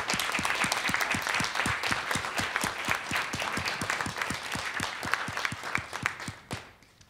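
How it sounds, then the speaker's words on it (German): An audience at an open-stage show in a casino hall breaks into steady applause, with rhythmic, unison clapping and a dense wash of hands that fades out at the end. "Applaus"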